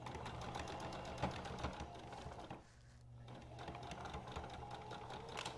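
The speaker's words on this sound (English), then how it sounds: "we're going to sew all along this edge" A sewing machine runs stitching along a fabric edge for a face mask, a fast steady mechanical rattle that pauses briefly midway and then resumes, close and alone.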